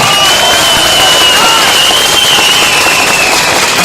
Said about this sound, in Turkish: Kendinizi alkışlayın hep beraber.